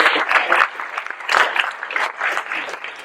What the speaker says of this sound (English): long round of applause, however long you'd like to clap for everyone on the CannaGather team